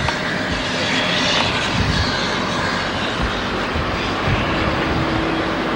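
Airplane engine roaring steadily as it readies for takeoff, a loud continuous broadband rumble and whine close by, constant throughout with no voices.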